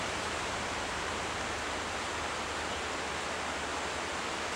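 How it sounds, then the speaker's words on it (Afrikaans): Falling water pours in a steady, dense rush that stays loud and unchanging throughout, with no voices over it. "En wat 'n wonderlike voorreg om hierdie water te hoor val."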